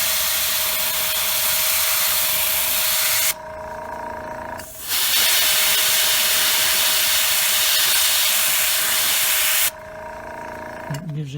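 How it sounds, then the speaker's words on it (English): Airbrush spraying paint onto a flat back shad fishing plug, a steady close hiss running most of the way with two short pauses between bursts. "we've got just a couple more colors to spray on it"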